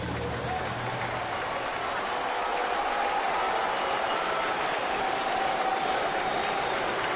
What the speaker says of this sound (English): the Mets fans who are here at Yankee Stadium should stand and applaud Fernando Nieve for his effort here today.